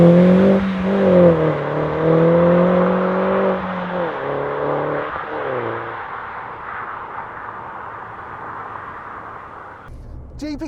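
A Mini GP3 engine pulls hard on country back roads, heard from inside the car as it revs up through gears, with rising and falling engine tones and a gear change, then settles into a steadier cruising hum.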